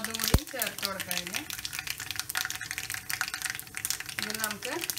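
Dried red chilies frying in oil for sambar give a steady, close sizzle and crackle, heard under a voice talking throughout.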